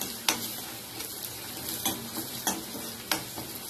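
Crushed garlic and ginger stirred into a sizzling masala in a pan, steady frying hiss with a few sharp spoon scrapes at intervals, close and moderately quiet, no voices.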